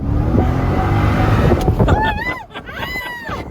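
A 600-horsepower supercharged Corvette convertible roars loud and close, revving hard with a rising supercharger whine through gear changes, wind rushing past.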